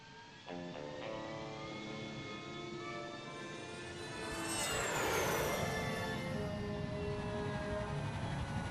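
A jet in the game Psychonauts powers up and lifts off: a steady engine hum with whining tones swells into a loud, rushing roar that sustains to the end, with no talk.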